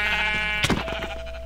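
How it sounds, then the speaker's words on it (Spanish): A sheep being struck and killed in a video game lets out a loud, close, wavering bleat lasting about a second, followed by a quick hit sound over steady background game ambience. "estoy matando ovejas"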